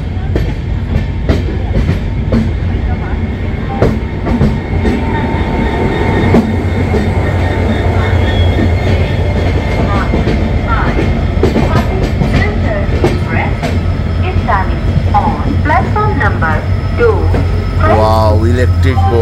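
A new LHB-coach Kanchanjungha Express (Sabroom–Sealdah) standing and moving at Guwahati platform 1 rumbles loudly and steadily, with rhythmic wheel clatter, hiss and occasional squeal, while voices talk and call out on the platform.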